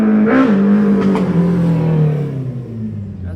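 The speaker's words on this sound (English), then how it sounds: "somebody just rode by on their motorcycle. Super loud." A loud motorcycle rides past near a balcony, its engine roaring close, then dropping in pitch and fading as it moves away, with no talk over it.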